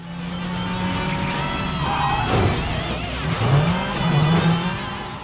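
Rally cars from the officially licensed WRC racing game, engines revving and droning up and down in pitch with tire skids and squeals across the stretch, loud and close, with no talk.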